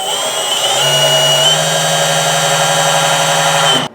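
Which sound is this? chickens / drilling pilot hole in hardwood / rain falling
drilling pilot hole in hardwood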